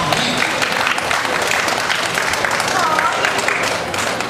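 Theater audience at a stage hypnosis show applauding steadily for several seconds, a dense, even patter of many hands filling the room with little variation.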